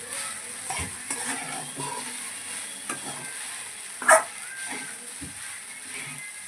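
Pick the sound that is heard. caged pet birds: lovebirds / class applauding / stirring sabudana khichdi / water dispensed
stirring sabudana khichdi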